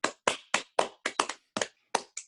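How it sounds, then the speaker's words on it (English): A single person claps hands about ten times in a steady, slightly uneven rhythm, each clap sharp and close, with no talk over it, just before a guest is introduced at a political talk. "I'll clap"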